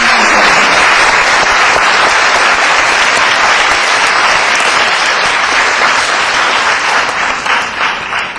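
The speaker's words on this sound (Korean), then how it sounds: "뜨거운 박수로 맞이해 주십시오." Loud, sustained applause fills the hall from an audience at the final of a university debate competition, holding steady for several seconds before tapering slightly at the end.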